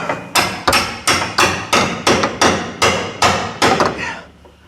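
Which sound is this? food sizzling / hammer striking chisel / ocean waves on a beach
hammer striking chisel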